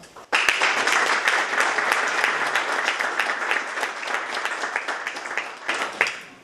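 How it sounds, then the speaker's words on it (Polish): A town hall audience at a municipal scholarship ceremony for teachers, parents and students breaks into loud, sustained applause, many hands clapping densely for about six seconds before tapering off. "to wam należą się największe brawa"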